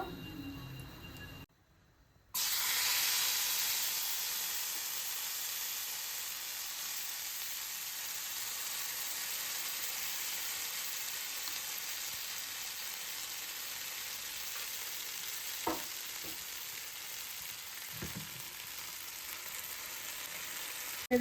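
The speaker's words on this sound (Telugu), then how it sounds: "ఆయిల్ వేస్తున్నాను దీంట్లో" Hot oil for a Telugu coconut rice roti sizzles steadily in a pan, a continuous hiss after a brief quiet gap near the start, with a couple of faint clinks.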